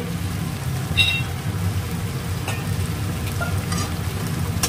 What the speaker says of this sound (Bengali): পোস্ত বাটা দিয়েও একটু ভালো করে কষিয়ে নেব